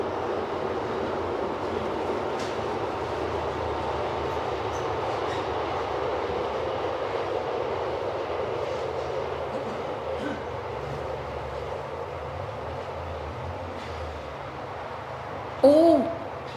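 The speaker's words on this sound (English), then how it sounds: "That is our usual train." A train rumbles past during an outdoor public talk in Saanen, a steady low broadband roar lasting throughout with a brief louder clatter near the end.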